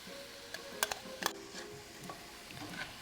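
Minced onion being stirred through spices in a pan for a saucy Indian chicken curry, with a few sharp spoon clicks against the pan over a soft, quiet sizzle.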